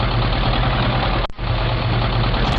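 Panzer tank engine running steadily, a loud continuous low rumble with a brief dropout in the middle, no voices over it.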